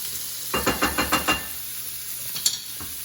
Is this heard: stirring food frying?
yes